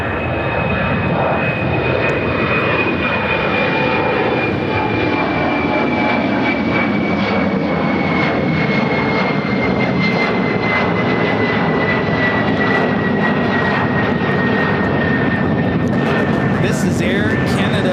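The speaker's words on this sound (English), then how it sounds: "This is Air Canada Express, operated by Jazz Aviation, flight 960, taking off to Montreal on the E175" Air Canada Express Embraer E175 jet operated by Jazz Aviation takes off at Chicago O'Hare, a loud sustained engine roar with a steady whine, heard from the spotting area with a voice talking over it.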